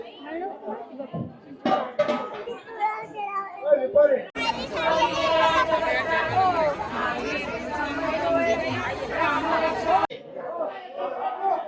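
Crowd of pilgrims and townspeople gathered at Saswad during the palkhi procession, a steady wash of overlapping chatter and children's voices, loud and close, with a brief dip near the end.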